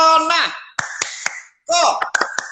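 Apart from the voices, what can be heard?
hand clapping in the 'tepuk corona' clap chant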